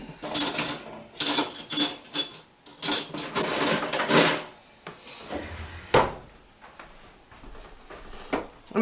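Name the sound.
fork mixing cream cheese dip in a bowl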